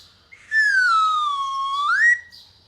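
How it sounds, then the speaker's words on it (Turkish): A single long train whistle sounds, close and clear, gliding slightly down in pitch before rising sharply and stopping. "Tren düdüğünü duydunuz."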